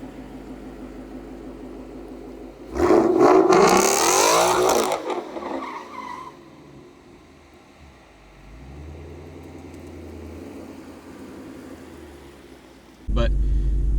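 A stick-shift car spins 180 degrees on a wet road, giving a sudden loud burst of revving engine and tire noise for a few seconds. It then fades to a low idle, and a sharp knock follows near the end.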